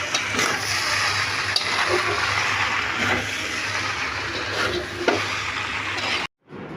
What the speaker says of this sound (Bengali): এখন আমি আর 2-3 মিনিট ভালো করে নেড়ে নামিয়ে নিব।